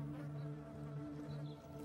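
Eastern honey bees buzzing around their hive, a faint, continuous droning hum with steady tonal whine and no voices.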